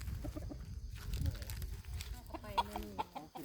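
Chickens cluck softly and fairly distantly in a rural Thai village yard, with a few short calls rising near the end over low background noise and faint voices.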